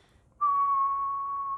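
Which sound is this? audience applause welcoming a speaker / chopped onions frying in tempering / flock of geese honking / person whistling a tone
person whistling a tone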